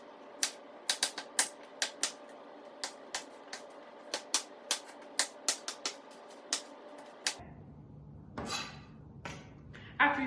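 Knife chopping a red onion into large chunks on a cutting board, a steady series of sharp, close taps that stops partway through, followed by softer shuffling sounds.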